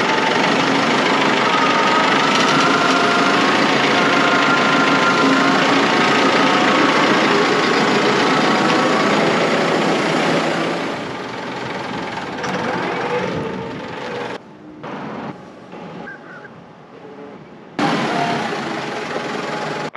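A heavy tractor engine idles steadily and loudly for several seconds while unloading a hay truck, then drops away into quieter, intermittent rumbling with brief gaps.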